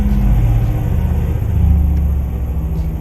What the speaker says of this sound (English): Trying not to use that jake brake too much, but because boy is it loud.